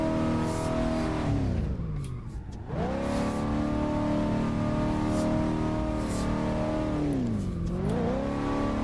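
A 1988 Chevrolet Monte Carlo drift build in the Assetto Corsa racing game revs hard, its engine note sweeping up and down with two deep dips as it shifts. A brief tire squeal comes through, and nobody talks.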